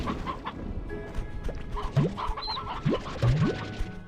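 Roosters crow in the video game Slime Rancher 2, with several short rising calls in close succession over a busy, cluttered game soundscape. No one talks.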